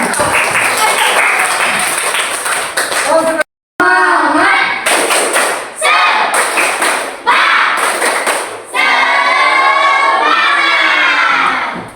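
Schoolchildren in a classroom clap together in loud bursts broken by brief pauses, with thuds and excited young voices shouting between and over the clapping.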